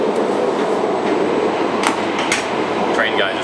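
A Shinkansen bullet train rushes past on a Japanese rail line, a steady loud roar of air and wheels that fills the whole moment with a few sharper clacks, close by.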